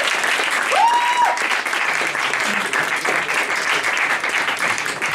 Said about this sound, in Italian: Applauso sulla citazione.